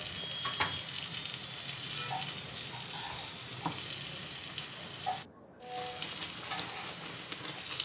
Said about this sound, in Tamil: இந்த மாதிரி கிண்டி கொண்டே இருக்கணும்